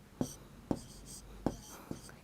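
Chalk or marker strikes a board in four sharp, evenly spaced taps and strokes during a class three maths lesson, close and distinct, with quiet speech faintly in the background.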